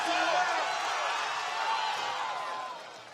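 A crowd roars in support of a strongman lifting a 175-kilogram log, a dense continuous cheer with whoops that stays loud and then fades near the end, with voices talking over it.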